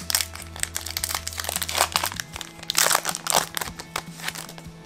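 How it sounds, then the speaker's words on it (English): A Yu-Gi-Oh! card booster pack's foil wrapper is crinkled and torn open up close, with bursts of loud crackling and crumpling in an irregular rhythm and no talking. "Ryan wanted me to get some pack opening ASMR"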